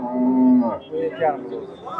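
A cow at a livestock market in Bekobod district lets out a loud, close moo, followed by shorter lowing grunts and bellows.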